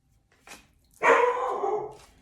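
Indoors, a dog gives a short soft yap and then, after a pause, a louder, drawn-out bark that fades away.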